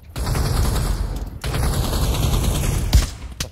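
Rapid automatic gunfire in a video game, a dense burst of shots, a brief gap, then another sustained volley, loud and close.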